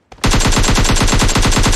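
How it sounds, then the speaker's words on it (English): An AK rifle fires in PUBG Mobile, a single loud, rapid automatic burst of evenly spaced shots that starts abruptly and runs without a break. "Kita akan hajar dia dengan AK sesuai dengan quest kita."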